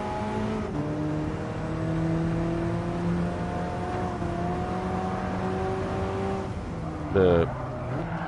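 A race car engine in Gran Turismo Sport on PS4 Pro drones steadily, holding sustained tones that shift in pitch, with a short sharp burst near the end; continuous and fairly loud throughout.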